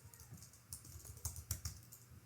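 Code is being typed on a computer keyboard: a quiet, steady run of soft key clicks with a few louder taps near the end, with no voices.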